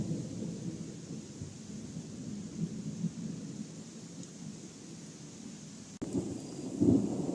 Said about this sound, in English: Storming again. I think worse than last time.